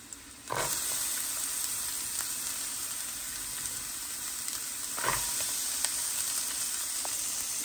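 Onion dropped into a pan with already browned garlic, bursting into a sudden loud sizzle that settles into a steady hiss, with a second surge when stirred.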